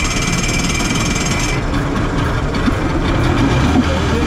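A rescue boat engine on a merchant ship, just after starting with its water outlet flowing, runs as a loud, steady low rumble throughout, with a high whine in the first part and no talk.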